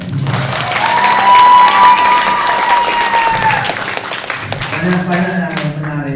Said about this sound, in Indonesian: Jadi juga tepuk tangan buat beliau.